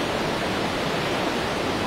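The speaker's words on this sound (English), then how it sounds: "It's still raging Wolf Creek. You can probably hear these waves." Raging Wolf Creek floodwater after a tornado outbreak churns in a steady broadband roar, close and continuous, like rushing rapids with no break.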